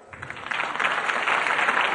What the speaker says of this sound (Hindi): जितनी भी शादीशुदा लेडीज हैं, सिर्फ वो ताली बजाइए।